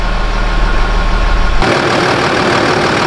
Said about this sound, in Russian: двигатель продолжает работать